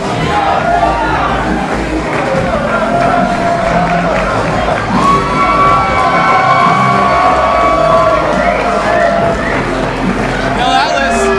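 Wrestling crowd at a Toronto indie show cheering and whooping steadily for Phil Atlas as he bows after a one-legged effort, a loud continuous roar with scattered shouts throughout.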